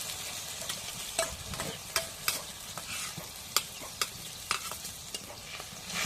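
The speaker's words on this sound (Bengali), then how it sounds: "এখন জিরা বাটা রসুনটা ভেজে দিই" Cumin paste and garlic sizzle in hot oil, a soft continuous fry broken by sharp, irregular clicks of a utensil stirring against the pan.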